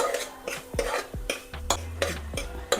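A spoon stirs and scrapes washed moong dal roasting in ghee in a pan, for sweet jaggery pongal. Repeated close metallic scrapes and clinks sit over a soft sizzle, in an uneven rhythm.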